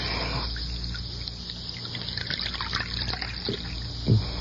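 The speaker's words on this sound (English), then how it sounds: "Let me pour you some coffee." Coffee poured into a cup as a radio drama sound effect, a soft steady trickle of liquid over a faint background hum, ending with a light clink near the end.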